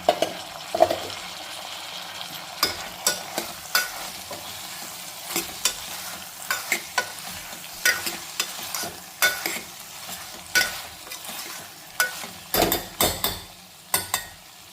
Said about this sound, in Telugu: సో చామ దుంపలు వేసేసాను అండ్ టొమాటో ముక్కలు కూడా వేసేసాను